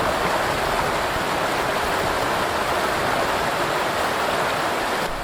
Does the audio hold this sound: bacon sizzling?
no